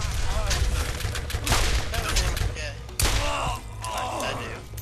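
Gunfire rattles in the video game Borderlands as bursts of shots and heavy impacts pile up in quick succession, loud and close, with voices faintly mixed in.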